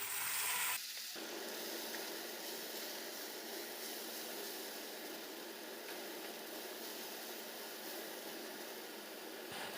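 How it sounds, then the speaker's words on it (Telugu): Tomato pieces sizzle in hot oil with ginger in a pan for a hotel-style poori curry, a steady close hiss that flares at the start as they go in, then settles into continuous frying. "టమాటో వేసాక ఇలా ఒక 2 మినిట్స్ ఫ్రై చేసుకోవాలి."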